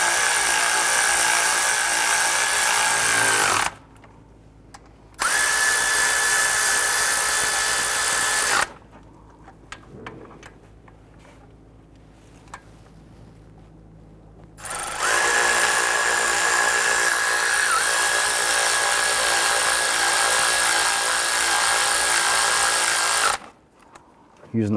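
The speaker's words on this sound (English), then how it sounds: "We're going to go ahead and tighten down these 3 bolts for the bracket." A power drill or impact tool runs down the bracket bolts on a 2012-2017 Toyota Camry hydraulic engine mount. It whirs loudly in three separate long bursts, with quiet gaps between them and faint clatter in the pauses.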